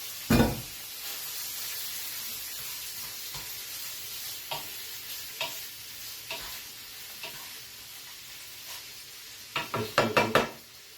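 Sausage frying in a pan for a Swedish macaroni pasta pudding, a steady close sizzle with scattered knocks and scrapes of a utensil against the pan, and a cluster of clatters near the end.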